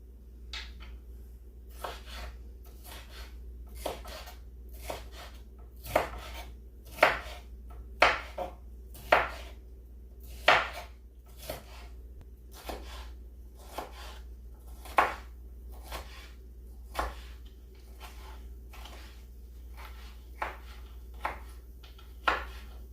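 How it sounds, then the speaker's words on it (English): A knife slicing a quarter of a green pepper on a cutting board, a long series of crisp, close taps at an uneven rhythm, some louder than others, over a low background hum. "I'm going to slice up just maybe a quarter of a green pepper"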